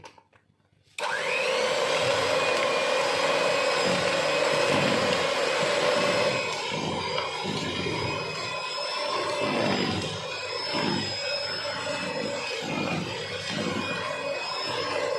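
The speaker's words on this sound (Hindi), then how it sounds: "अब मैं बीटर की मदद से इसको बीट करूँगी 10 मिनट के लिए।" An electric hand beater whips chilled nan khatai dough in a bowl, giving a loud, steady motor whine throughout. Faint rhythmic scraping sounds from the bowl come through in the second half.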